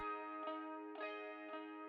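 A quiet clean electric guitar plays a few sustained chords, each strum ringing out in a slow, even rhythm.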